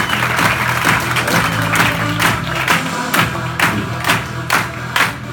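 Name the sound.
audience applause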